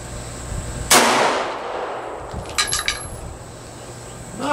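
A single sharp 10mm pistol gunshot fired outdoors during a chronograph test with cheap aluminum-case ammunition, a loud crack with a decaying tail followed by a few faint metallic clinks.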